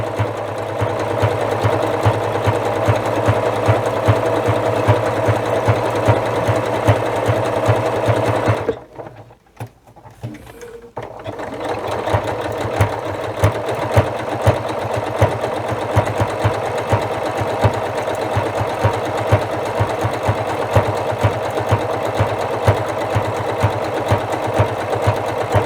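A sewing machine runs a dense satin stitch along an appliqué edge, fitted with the wrong needle for the project; a steady, fast mechanical whir and needle chatter fills the space, stopping briefly midway before resuming at the same even pace.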